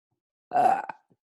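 A single loud, close burp rumbles out for about half a second, ending with a short gulping catch.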